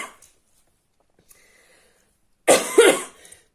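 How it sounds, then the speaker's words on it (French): A person gives a short, loud cough and clears their throat near the mic at the end, after a few faint breaths and small noises in near silence. "Qui fume, qui tousse, qui a quelque chose à la gorge"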